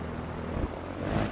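A helicopter's rotor whirs steadily in the Trailmakers building game, a continuous engine drone with a faint rhythmic chop.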